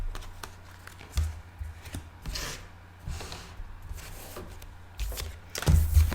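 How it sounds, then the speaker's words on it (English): Tarot cards being shuffled by hand, soft riffling and tapping bursts recurring every second or so, close and quiet, with a few louder handling knocks near the end. "I feel like I need to do one more shuffle."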